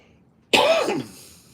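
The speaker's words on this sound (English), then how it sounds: "getting the dry smoker's cough because my throat's drying out." A single dry, raspy smoker's cough bursts out close by after a brief silence, a harsh throaty rasp that trails off within about half a second, with no talking.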